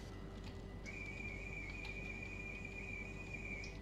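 A train whistle in Train Simulator 2015, on an NS VIRM train at Heerhugowaard, blows as one steady, sustained tone for about three seconds over a constant low engine hum.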